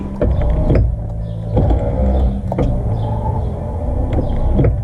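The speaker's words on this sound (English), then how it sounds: "Because all the 4 windows are electric. You can pull them down and up." Electric power window motors whirring on a 1965 Lincoln Continental, several short humming runs up and down with clunks as the glass stops, loud and close with no talking.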